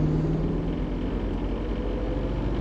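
Mercedes S124 with a turbocharged V8 engine at full throttle gives a loud, steady, deep droning rumble that holds unbroken from start to finish.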